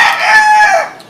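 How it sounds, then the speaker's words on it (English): A rooster crows loudly and close in a Hawaii yard, one long rising-then-falling cock-a-doodle-doo call that fades out at the end. "Sorry for the roosters."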